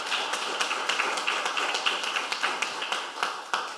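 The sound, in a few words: audience applause for the professor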